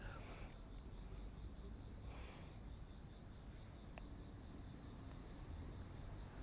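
A steady, high-pitched insect drone of cicadas hums continuously in the distance on a summer night in Tokyo, with faint outdoor ambience and no talking.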